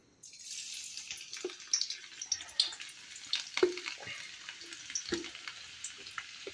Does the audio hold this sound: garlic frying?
yes